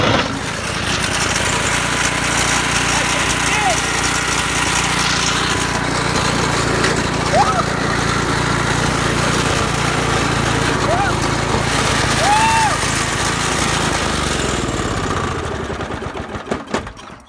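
A racing lawn mower engine running flat out at maximum throttle, a loud, steady, buzzing drone held for many seconds with slight pitch wavers, then dropping away as it winds down at the end.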